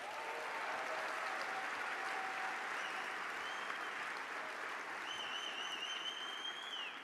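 An audience at the 43North startup competition finals in Buffalo gives founders a long, even round of applause, steady dense clapping filling the hall with no talk over it.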